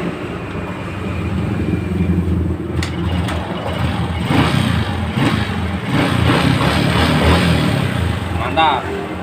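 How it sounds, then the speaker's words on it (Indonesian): A Honda Supra 125 motorcycle with an ignition fault starts up and runs with a rough, steady engine drone nearby, while people talk over it. "Coba mas, motor hidupkan mas."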